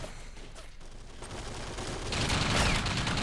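Sustained fire from a paratrooper squad's machine gun in Men of War: Assault Squad, continuous dense rattling that grows louder and heavier toward the end, with no voices.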